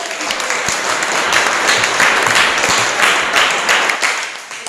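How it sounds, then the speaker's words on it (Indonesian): A classroom crowd applauds steadily, a dense wash of many hands clapping close by that swells and then begins to fade. "Sekali lagi mari kita berikan tepuk tangan"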